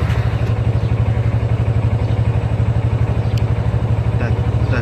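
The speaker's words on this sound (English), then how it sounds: "I'll just start up the motorcycle and show you." A Yamaha FZ25 motorcycle engine starts and idles close by with a steady, rapid chugging pulse and a faint mechanical clatter.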